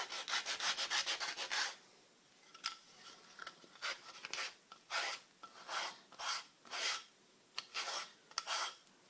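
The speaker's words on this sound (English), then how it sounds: "So I just kind of sand it a little bit." Coarse sandpaper rubbed over a rubber sheet to roughen it for homemade skateboard ollie patches, heard as a fast run of short rasping strokes followed by slower, separate scrubbing passes, close up with no talk.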